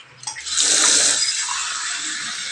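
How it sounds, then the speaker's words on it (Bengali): Water pours onto potted plants in a strong, steady splashing stream that starts abruptly and keeps up loud and close to the end; nobody talks. "এখন আমি গাছগুলোতে একটু জল দিয়ে দিচ্ছি"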